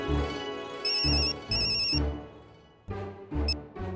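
A telephone rings repeatedly while a conference call is being set up, its electronic ringtone sounding in short bursts with brief gaps, loud and close, with no talking.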